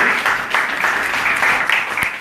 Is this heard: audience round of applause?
yes